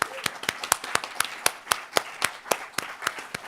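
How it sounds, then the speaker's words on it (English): A small audience claps after a film screening at a Q&A event. The claps are sparse and distinct, falling in a fairly steady rhythm and sounding moderately close. "maybe we could make this round of applause for all of them"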